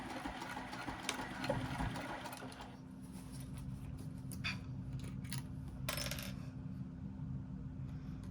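Sewing machine back tacking a seam on a lined box bottom zipper pouch, a short run of stitching with a steady motor hum and a few clicks and clatters.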